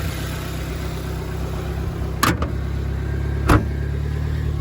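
An old Suzuki Jimny rescue car's engine idles steadily and close by, a continuous low hum broken by two brief clunks partway through, with no talking.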